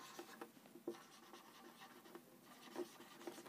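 Marker or chalk scratching across a classroom board in short strokes, faint and close, with soft taps and pauses between words being written.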